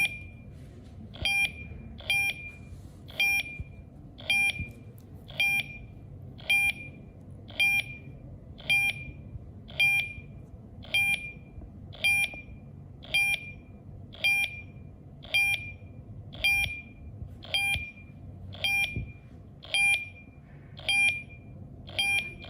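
An APOLO alarm panel sounds a steady series of sharp, high electronic beeps during setup, about one per second and repeating evenly over a low background hum, with no voices.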